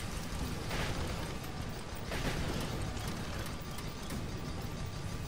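Airship guns fire in Guns of Icarus: a continuous, dense wash of gunfire and mechanical noise with periodic louder bursts, steady and loud throughout, without speech.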